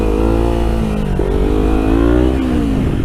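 A Kawasaki Ninja 300 motorcycle engine held at around 7,000 rpm, a loud, steady, buzzing rev with slight rises and dips in pitch, close up and with no talk over it.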